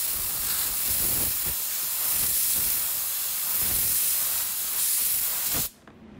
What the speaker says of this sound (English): you want to take compressed air